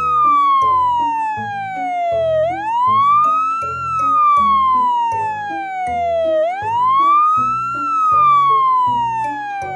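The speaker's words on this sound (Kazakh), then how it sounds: "Бұл өрт сөндіруші көлігі." A fire engine siren wails in long, smooth rising and falling sweeps that repeat steadily, loud and close, alone with no talk over it.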